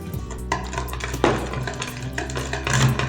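Spoon stirring strawberry pulp and powdered sugar into yogurt in a bowl, a steady close scraping and swishing with soft clinks, continuous throughout with no talking.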